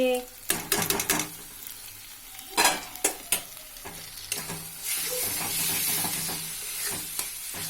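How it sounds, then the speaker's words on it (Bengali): Mashed eggplant is stirred into spices in a hot pan, giving steady sizzling and frying under a run of scraping, clattering stirring strokes. The sound is close and fairly loud. "এবারে বেগুনটা দিয়ে ভালো করে একদম নেড়ে চেড়ে পুরো বেগুনের সাথে মশলাটা পুরো মেখে নিতে হবে।"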